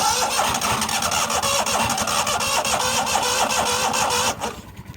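A neglected 1998 Yazoo YTKC22 three-wheel mower engine cranks rapidly with a rhythmic churning starter, loud and close, for several seconds before cutting off without catching.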